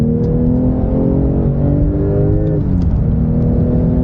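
Porsche 911 Turbo S (992) Sport Classic with a manual gearbox, its engine revving up under sharp throttle in a steady rising drone, close and loud, with no talking.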